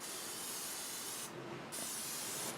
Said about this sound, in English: we're going to put some cooking spray in there so that it doesn't get all stuck to the sides